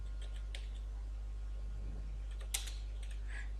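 Computer keyboard keys are tapped in short, sparse bursts while a design program is in use, faint and close over a steady low electrical hum.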